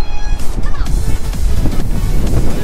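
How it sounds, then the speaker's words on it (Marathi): Strong wind rushes and buffets loudly and continuously during heavy rain at a farmhouse, with rumbling gusts close to the microphone. "वारा सुटलाय"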